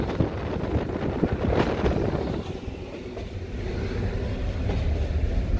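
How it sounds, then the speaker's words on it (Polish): A PKP InterCity TLK sleeper train pulls away, heard from inside a three-berth sleeping-car compartment: a steady low rumble of wheels and carriage with scattered rail clicks and rattles, fairly loud and continuous. "Jeszcze na sam koniec pociąg już ruszył."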